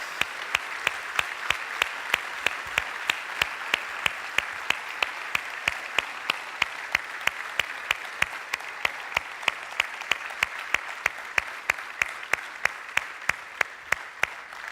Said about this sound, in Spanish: Un fuerte aplauso para todas estas personas